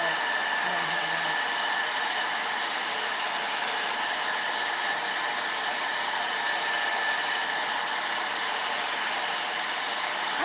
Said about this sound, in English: setting on my hair dryer to dry it as fast as I can